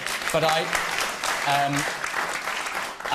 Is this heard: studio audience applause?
yes